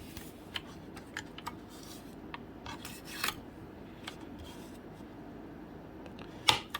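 Wooden coffee stir stick being cut into small pieces, heard as faint scattered snips and clicks with light scraping and rubbing, close but quiet, ending with one sharper snap.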